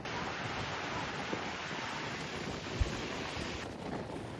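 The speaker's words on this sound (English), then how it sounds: "it's windy at Midway Geyser Basin" Strong wind buffets the microphone at Midway Geyser Basin in Yellowstone, a continuous broadband roar with one brief thump, loud and steady with no voices.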